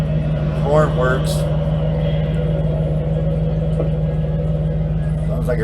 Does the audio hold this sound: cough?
no